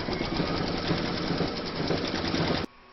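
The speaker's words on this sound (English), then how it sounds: "you're going to pop your hoop back into your machine and stitch round number 4" An embroidery machine stitches a round through fabric held in its hoop, a steady, loud, close whirring hum that holds for nearly three seconds and then stops abruptly, leaving faint room noise.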